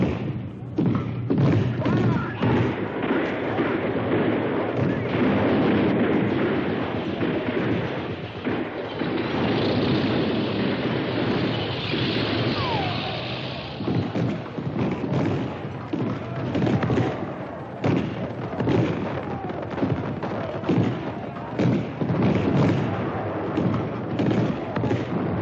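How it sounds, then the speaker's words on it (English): Tank guns fire point blank at the walls and gardens of the citadel during the Battle of Hue, with continuous booming blasts and heavy thuds rolling through a dense, loud wartime din. "Supporting the advance, tanks fire point blank at the walls and garden of the citadel"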